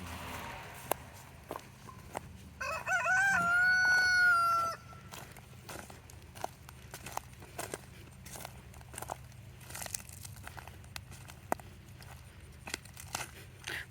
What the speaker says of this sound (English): So chickens have already begun running this way.